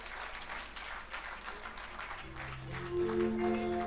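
Fairly quiet audience applause for a guest invited on stage, a soft even clatter of clapping that fades as a steady tonal hum rises near the end.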